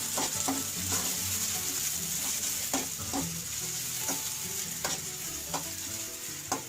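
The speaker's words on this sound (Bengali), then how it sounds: "আমরা পেঁয়াজটা একটু নাড়বো।" Chopped onions frying in oil for a Bengali crab curry, stirred with a spatula: a steady bright sizzle throughout, broken by repeated sharp scraping clicks of the utensil against the pan, close and fairly loud, with no talk.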